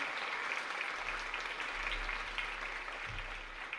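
An audience at a Southside High School talk applauds for a guest speaker, with a continuous, even wash of clapping heard at a low, somewhat distant level.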